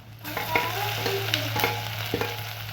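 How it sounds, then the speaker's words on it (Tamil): Garlic sizzles in hot oil in a pan for a spinach tempering, a continuous close frying hiss broken by a few sharp scraping stirs, with no talking. "அடுத்தால பூண்டு போட்டுக்கலாம்."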